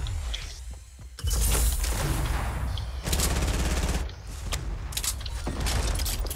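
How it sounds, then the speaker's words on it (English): A minigun firing in Fortnite during a duo match: dense, loud streams of rapid automatic fire come in several long bursts, with clattering impacts and brief mechanical lulls between them. "In your honor, Carrot, I will win this with the minigun."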